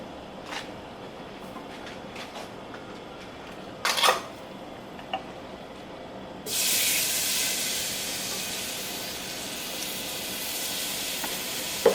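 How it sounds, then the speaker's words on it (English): Evaporated milk poured into a flour roux in a pan for Southern-style mac and cheese bursts into a loud, steady sizzle partway through, following quieter scraping and a brief clatter. "I'm going to add in my evaporated milk"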